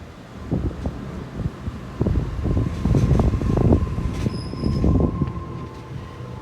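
A Sydney train, set B26, passes through Burwood station with rumbling wheels and squealing rails, building to a loud roar, with wind buffeting the microphone and a brief high tone.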